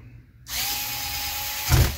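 A power screwdriver whirs steadily for about a second while driving a screw back into the underside of a Lenovo Ideapad Flex 5 laptop, close and loud, ending in a low thump as the screw seats.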